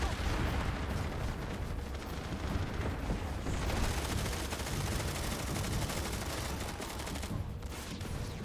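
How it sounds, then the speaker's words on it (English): Grenades exploding amid sustained gunfire in a large Planetside 2 battle at Nexus Omega, a dense, continuous wall of crackling shots and blasts that barely lets up. "The grenades are flying."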